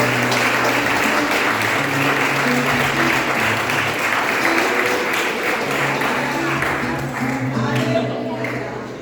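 A church congregation in a Portuguese-speaking service claps for Jesus, giving sustained, full applause that holds steady and slowly tapers at the end over a low musical hum and faint voices.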